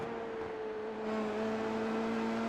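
An F3 race car engine in a sim racing game, lapping Road Atlanta, drones loud and steady with a slight shift in pitch partway through. No talk is heard.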